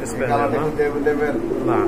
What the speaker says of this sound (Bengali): খুবই ভালো ব্লাড লাইনের কবুতর